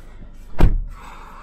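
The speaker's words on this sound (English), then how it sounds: "Doors shut with a proper thud." A Hyundai Venue diesel car door shuts once with a solid, close thud, standing alone against faint background noise.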